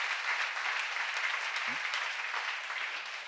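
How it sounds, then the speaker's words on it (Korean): A church congregation at a seminar claps together in a soft, even patter of applause that carries on steadily throughout, with no talk over it. "여러분 하나 한나라 시민권인 거 믿으시면 박수를"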